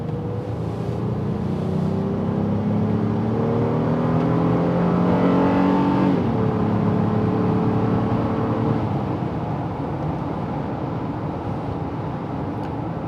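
A 2024 Honda Ridgeline Trailsport pickup truck in regular drive mode with eco mode off accelerates hard, its engine note climbing steadily in pitch for about six seconds, then shifting and settling into a loud, sustained drone close by.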